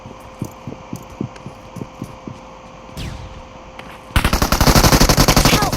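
Gunfire in a video game: a run of single sharp shots at a steady pace, then a loud sustained automatic burst of rapid fire close up, with no talk.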